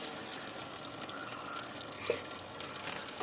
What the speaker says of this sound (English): You're going to lose a little bit of ATF coming out